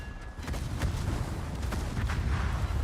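Torpedo hits striking ships in World of Warships, a dense, continuous rumble of booming impacts with several sharp explosive cracks rising above the steady low roar, loud and close throughout.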